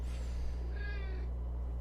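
A cat gives a short chirping trill, close and fairly quiet, over a steady low background hum.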